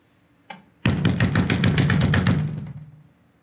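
One light knock, then a rapid burst of about a dozen hard, heavy blows pounds on a wooden door, loud and close before fading out.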